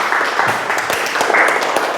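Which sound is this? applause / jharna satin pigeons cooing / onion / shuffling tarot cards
applause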